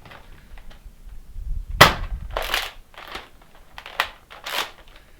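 Several sharp snapping shots from a Nerf Slingfire blaster modded with a 5 kg spring, each a quick crack with rustling handling noise between them, close by.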